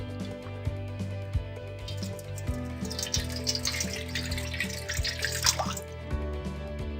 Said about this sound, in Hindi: कढ़ाई चढ़ा देते हैं, इसमें डाल देते हैं पानी।